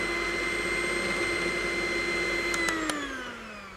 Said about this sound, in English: use the same whisk and just give them a quick whisk